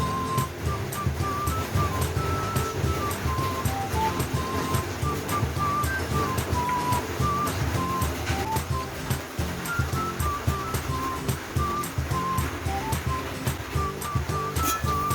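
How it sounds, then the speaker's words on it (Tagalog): Sinigang broth comes to a boil in a covered pot, a steady rushing bubble and hiss that runs without pause, with faint melodic tones in the background. "Yan, kulo ng ating sabaw."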